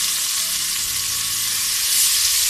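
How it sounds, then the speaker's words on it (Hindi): Onions hit a hot pan for mutton rogan josh and sizzle loudly and steadily, a dense, even hiss of frying that fills the whole moment with no voices. "और अब हम इसमें ये प्याज डाल देंगे"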